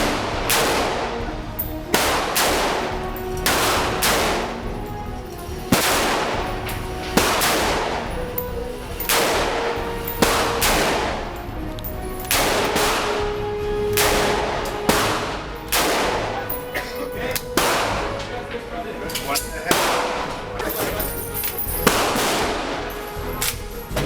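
An HK gun fires repeated sharp shots at a steady, deliberate pace on a shooting range, each loud crack trailing a short echo, a couple dozen rounds in all with no talk.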